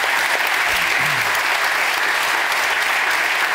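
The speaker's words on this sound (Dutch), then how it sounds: "Geeft u eerst ons fantastische interviewers even een warm applaus." A studio audience at a Dutch television interview show claps warmly for the interviewers, a dense, steady wash of applause throughout with no one speaking over it.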